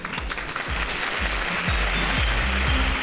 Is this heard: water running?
no